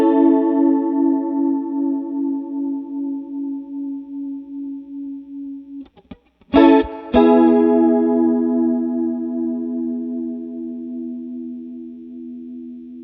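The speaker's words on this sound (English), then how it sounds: "You can clearly hear that there's way too much chorus and it's just taking over your guitar sound and making it sound really modulated" Electric guitar run through a Boss CE-2 chorus pedal with both rate and depth turned all the way up, sustained chords warbling heavily with a brief gap and a restrike midway, loud and alone.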